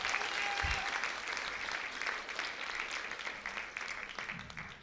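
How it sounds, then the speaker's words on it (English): Audience applause at a live event, a steady crowd clapping filling the whole stretch at even loudness, with no voices over it. "So please give a round of applause to Alex."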